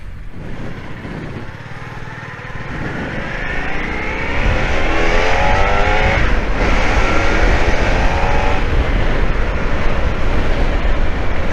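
A loud Royal Enfield motorcycle engine rumbles nearby, a steady rough drone that swells and climbs in pitch as it revs and pulls away, growing louder partway through and holding strong to the end.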